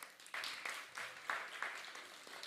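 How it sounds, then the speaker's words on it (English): A few people applaud during a live service at the ISKCON Dallas temple. Faint, distant clapping comes in soft, fairly regular bursts. "We can give her a round of applause"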